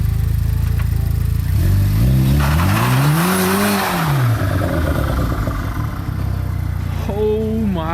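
A salvaged street-legal race car launches with its engine revving hard and climbing then falling in pitch, tires burning, loud and close, followed by another quick rev near the end, with faint voices around.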